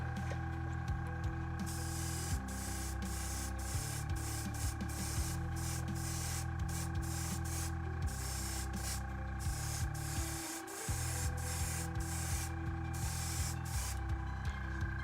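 Spray paint hisses steadily as a base coat goes onto Tau battle suit miniatures, a near, continuous aerosol spray broken by brief pauses and a longer gap partway through.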